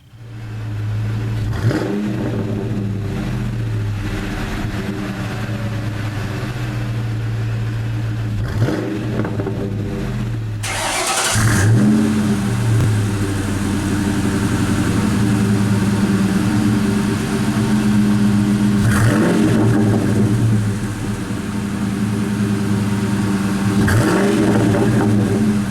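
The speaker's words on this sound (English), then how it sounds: "I was trying to get a little more rumble out of the exhaust. Well, here's a before and after" Ford Mustang Bullitt V8 exhaust fitted with shorty headers, heard before and after the install: a steady deep idle rumble with several throttle blips and revs, louder and fuller after a sudden change partway through, with no talking.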